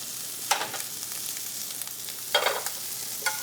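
Pieces of guanciale sizzling in a pan over a low flame for Roman carbonara, with soft steady frying and a few brief scraping stirs as they are moved around.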